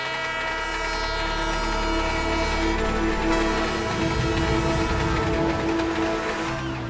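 A train in the Motu Patlu animated cartoon: a loud, sustained horn blast rings over a rumbling rolling-rail roar, with the low rumble dropping away partway as the horn tone carries on, no voices.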